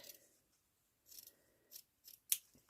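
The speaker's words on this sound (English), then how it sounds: "I need my sharp scissors." Sharp scissors snip lace in a series of short, crisp cuts at close range: several separate snips, the last one loudest, in a quiet crafting setting.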